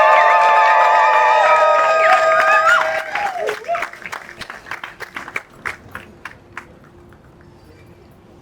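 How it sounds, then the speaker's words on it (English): Press conference audience clapping for Native peoples being introduced, starting over tonal chanting or voices, then thinning into scattered individual claps that fade away. "Round of applause for our Native peoples."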